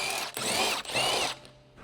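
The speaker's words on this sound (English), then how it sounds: "Use a 17mm deep socket with the impact wrench to remove the rear wheel lug bolts." An impact wrench with a 17mm deep socket hammers loose the rear wheel lug bolts on a 1999-2007 BMW 325ci E46, with two loud rattling bursts and a short pause between them before it spins down.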